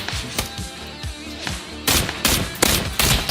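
Rapid bursts of video game gunfire, several loud volleys in quick succession with sharp reports and echoing tails, no talking.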